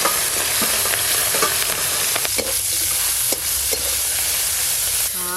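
Crabs coated in salt and turmeric fry in hot oil with a dense, loud, continuous sizzle. Occasional scrapes and clacks of shells being turned sound close by, and no voices are heard.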